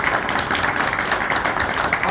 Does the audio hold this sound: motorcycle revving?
no